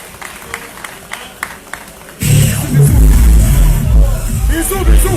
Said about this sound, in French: On l'applaudit bien fort, Nathanaël Medratom.